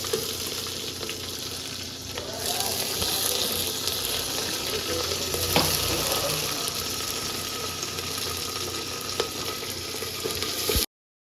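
Onions frying in oil in a home kitchen pan for a sambar tempering, a steady close sizzle running throughout with faint clinks of stirring and no talk.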